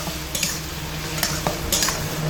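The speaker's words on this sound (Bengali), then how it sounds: "গরম তেলের মধ্যে প্রথমে গাজরগুলো দিয়ে ভেজে নিচ্ছি।" Carrots fry in hot oil in a pan, a dense continuous sizzle broken by a few quick scrapes and taps of a spatula stirring them.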